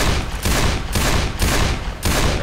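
Rapid, loud bursts of gunfire in Left 4 Dead 2 during a zombie apocalypse, about five heavy volleys in quick succession, close and punchy, with no talk over them.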